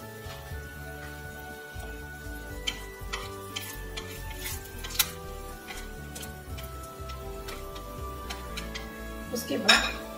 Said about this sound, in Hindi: पहले हम खड़ी मसाले डाल लेते हैं।